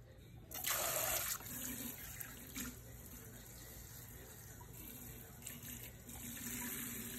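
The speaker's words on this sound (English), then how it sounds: "on the other side of the sink, I'm going to run lukewarm water and rinse out the shampoo" Lukewarm water runs from a sink tap to rinse shampoo out of a hair extension ponytail, a soft close steady stream that swells to a louder gush early on and then continues at a lower level, with no voices.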